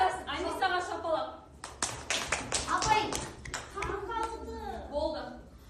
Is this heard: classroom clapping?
yes